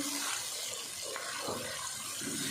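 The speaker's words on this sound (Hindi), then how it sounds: "थोड़ा सा पानी ऐड कर देंगे" Water poured into chopped tomato and onion in a hand chopper for fish curry, a soft running splash and trickle lasting a couple of seconds, close and steady with no talk.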